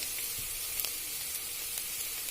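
Onion frying in oil in a pan for a lauki kofta curry, a steady close sizzle and hiss with faint pops and crackles throughout, no talking.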